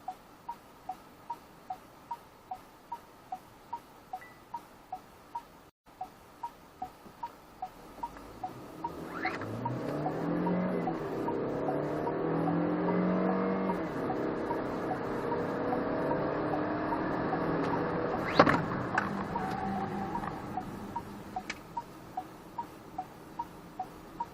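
A SsangYong Tivoli 1.5 gasoline turbo small SUV pulls away hard from a standstill, its engine note rising steadily through the revs from inside the cabin after a run of soft regular ticking, then easing off near the end.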